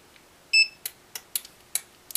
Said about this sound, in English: the alarm system responds.